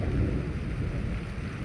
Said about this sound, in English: guess it's raining a little bit